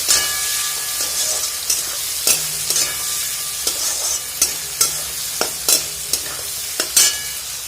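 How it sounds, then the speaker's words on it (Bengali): Ingredients for ghugni, with ginger paste nearby, are stirred and scraped in sizzling hot oil in a pan, giving a steady frying hiss broken by repeated clacks of the spoon against the pan, close up and with no voices. "তেলের মধ্যেই দেখো একটু এবার এরকমভাবে ঘেঁটে দিলেই হয়ে যাবে"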